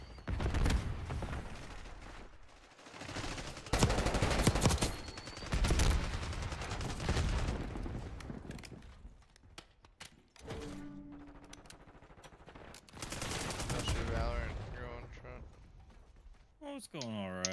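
Gunfire in a Call of Duty multiplayer match, with repeated loud bursts of automatic fire broken by quieter stretches, while a player talks over it.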